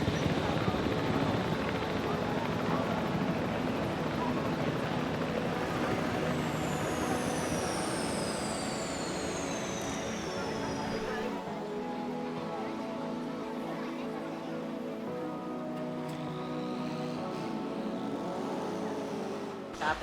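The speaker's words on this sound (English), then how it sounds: "Let's deploy the drone." Drone flying in the dinosaur park game Jurassic World Evolution 3, a continuous whirring rotor hum with sweeping pitch glides and a sudden drop in intensity partway through, steady and close, with game voice chatter mixed underneath.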